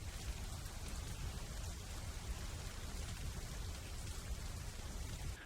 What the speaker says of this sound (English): The ambient sound is good. Vigrid in the rain, forget about it.